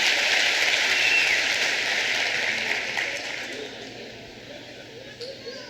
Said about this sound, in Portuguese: Vamos lá, vamos dar um aplauso.